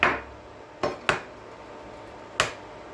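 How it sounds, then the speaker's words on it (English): Eggs for French toast are cracked on a flat surface. There are four sharp, distinct taps, close and clear, with the first two and last two spaced apart and quiet in between. "always crack your eggs on a flat surface and not the side of your skillet or something, and you'll get less shells"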